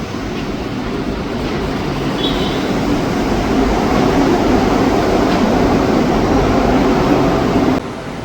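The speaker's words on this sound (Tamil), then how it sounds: "இப்போ வந்து ட்ரெயின் வந்து அப்படியே ஸ்டேஷனுக்குள்ளே என்ட்ரு ஆகுது." A steady, loud rumble of a monorail car rolling and humming close by as it enters a Kuala Lumpur station, gradually building, then cutting down sharply near the end as it settles.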